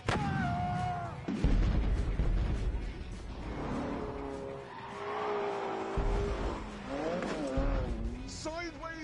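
Race car sliding sideways with screeching tyre squeal in The Grand Tour Game on PS4, engine roaring and tonal squeals rising and falling over about nine seconds, with voices talking over the action.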